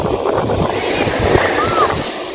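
Ocean waves break on the beach at Besant Nagar, a steady close wash of surf with gusty wind buffeting the microphone throughout.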